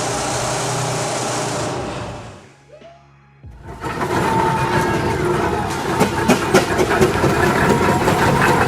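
An old steam plowing engine called the Chief, from the late 19th century, runs with a loud mechanical rumble, goes quiet for about a second, then resumes with a rhythmic clattering chug.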